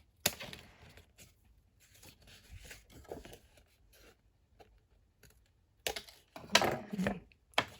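Paper trimmed for a pocket mini album gives soft, scattered cutting and rustling sounds close by, quiet between a few sharper bursts near the end.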